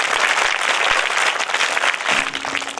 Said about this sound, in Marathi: सगळ्यांनी खूप जोरात टाळ्या वाजवायच्या ज्यांनी डान्स केला